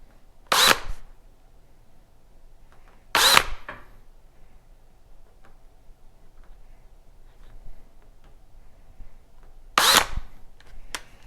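A power drill whirs through plastic motorcycle wind deflectors on a 2018+ Honda Goldwing in three short bursts separated by quiet pauses, close and loud, with faint clicks between.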